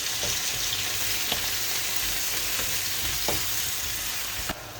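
Tomatoes fry in a hot pan with a loud, steady hiss of sizzling, punctuated by a few light spatula knocks and a sharper clack just before the end.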